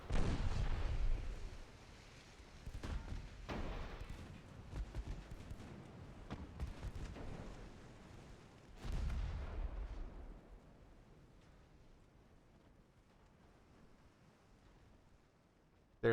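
Heavy 5-inch naval guns boom out in the Ultimate Admiral Dreadnoughts warship game, with a cluster of loud, close blasts early on, a second strong salvo near the middle, then a long fading rumble and a final sharp shot.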